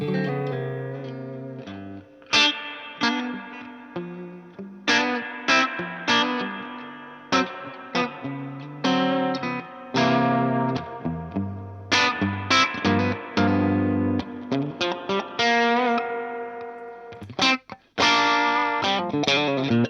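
Distorted electric guitar through a VOX AC15 amp playing chords and short phrases, its spring reverb toggled by foot switch, the tail switching between long washy decays and abrupt dry cutoffs.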